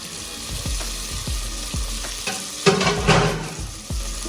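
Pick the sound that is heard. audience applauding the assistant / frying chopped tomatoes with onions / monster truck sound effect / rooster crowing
frying chopped tomatoes with onions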